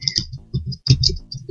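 Typing on a computer keyboard gives a short burst of close, quick key taps in an irregular rhythm, with no voices.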